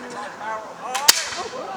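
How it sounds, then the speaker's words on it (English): A single sharp musket crack rings out at a Sealed Knot battle reenactment at Stockwood Park, Luton, preceded by a rising rush of noise, with faint voices and crowd murmur around it. "That was just 3 muskets."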